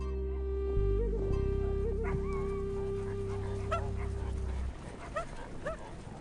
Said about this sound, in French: Tu entends les chiens aboyer?